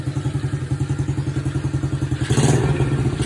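An SSR SC70C motorcycle engine running on a newly fitted carburetor, a close, even putt-putt idle that rises into a louder, rougher rev near the end.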